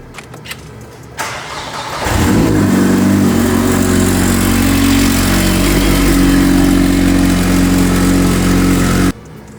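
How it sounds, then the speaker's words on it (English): An Alpine A110R cranks briefly and fires up, the engine catching with a rising roar and settling into a loud, steady idle close by, then cutting off near the end, with no talking. "Now we have to fire up the vehicle, leave it to idle for a while"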